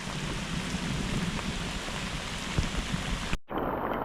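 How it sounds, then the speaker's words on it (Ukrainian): Steady, dense rain pours down at a carp fishing spot with a constant broadband hiss and scattered drop impacts, cutting off abruptly near the end. "Дивіться, який дощара лупив."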